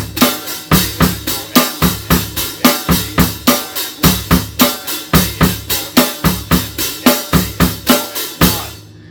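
Drum set in 4/4 with a steady bass drum on every beat and eighth-note offbeats, the snare displaced off its usual spot, loud and close in a tight repeating groove with no talking.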